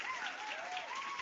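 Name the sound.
applause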